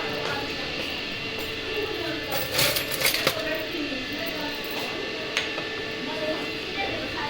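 A large spoon clinking against dishes in a home kitchen, giving light metallic chinks and a few brighter clatters scattered under steady conversation.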